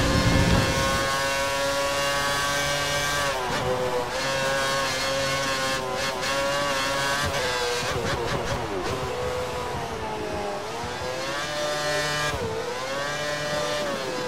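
A Formula 1 race car engine in the F1 2013 video game wails at high revs throughout, its pitch rising and dropping through gear changes, loud and steady and close.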